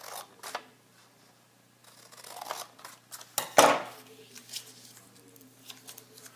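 Scissors making two snips through paper flaps for a plant cell foldable, with faint rustling of paper before and after; one snip is loud and close.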